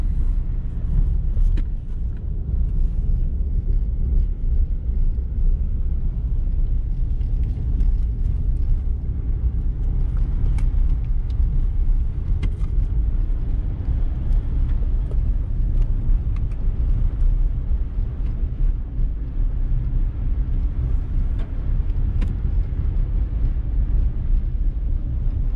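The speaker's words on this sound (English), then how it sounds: "Still have it in four-wheel drive auto. Only doing about 20 miles an hour." A Ram 1500 Big Horn pickup in four-wheel drive auto mode rolls slowly at about 20 mph along a slippery snowy road, giving a steady low engine and road rumble from inside the cab with no talking.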